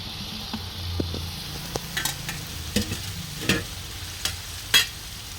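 Diced potato tossed into hot oil in a pan for a dried-fish curry and stirred, with a low continuous sizzle broken by several sharp, close scraping stirs of the spoon; no one speaks.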